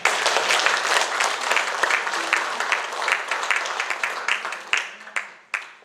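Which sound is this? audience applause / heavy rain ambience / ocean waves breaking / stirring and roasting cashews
audience applause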